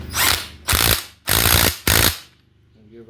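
A socket wrench ratchet tightens a part on a 1966 Mustang, with four loud, close bursts of rapid clicking separated by short pauses, followed by a faint trailing sound.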